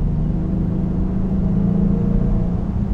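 A 2018 Genesis G80 Sport accelerating hard, heard from inside as a loud, steady low engine drone with a rising tonal whine and constant road rumble, no talking.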